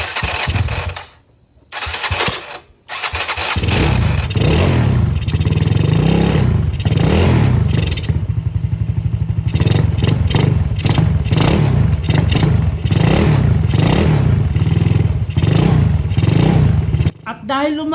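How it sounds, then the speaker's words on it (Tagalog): A restored Yamaha Mio scooter with a Thai engine unit starts up after a fresh battery is fitted, then idles and revs loudly close by in a steady droning run, with a few brief pauses and a voice talking. "Dahil umaandar na yung motor"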